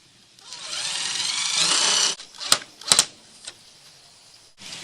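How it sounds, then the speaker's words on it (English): Power drill driving extra screws into plastic on a chicken coop composter, one long whirring burst followed by a few short sharp bursts and clacks, close and loud. "I think I'm going to put a few extra screws in here."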